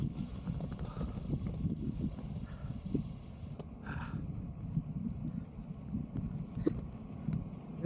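Steady low rumbling wind buffets the microphone throughout, a constant blustery roar with a faint hiss above it.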